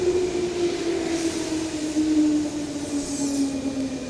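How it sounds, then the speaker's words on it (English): A train pulls into a station while the listener waits on the platform, a steady rumbling roll with sustained tonal wheel squeal and hiss throughout, fairly close and continuous with no talking. "Here comes a train"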